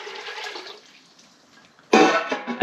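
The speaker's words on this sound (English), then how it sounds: "So I'm gonna whack all this salt water back into another pot." Ocean salt water pours from one pot into another while sea salt is being made, first a moderate splashing stream that thins out, then a sudden louder gush of liquid near the end, with no talking.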